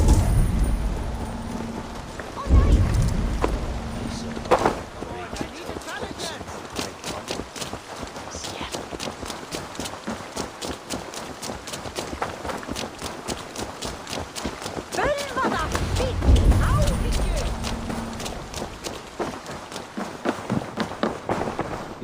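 Horse hooves clip-clop steadily across ground in the Assassin's Creed Valhalla video game, a brisk, continuous rhythm of sharp hoof strikes lasting throughout, with occasional louder thumps and faint voices in the background.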